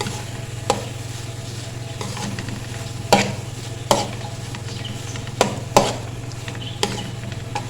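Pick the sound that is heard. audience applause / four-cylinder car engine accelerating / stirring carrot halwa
stirring carrot halwa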